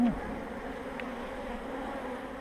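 Honeybees humming steadily around an open hive during a colony expansion, a close, continuous low buzz with a brief higher note from a passing bee.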